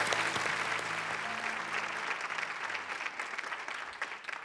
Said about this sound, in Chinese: 为老张喝彩